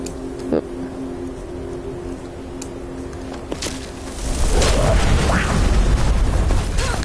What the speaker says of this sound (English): Lots of explosions.